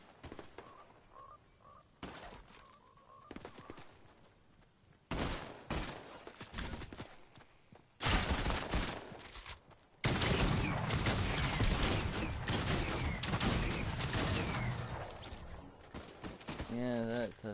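Video game gunfire comes in bursts of rapid shots, some sharp and close and others sparse, growing into a dense stretch of heavy firing toward the end.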